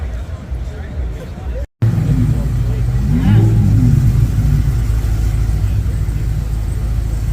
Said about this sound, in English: Got some Audi R8 action coming in.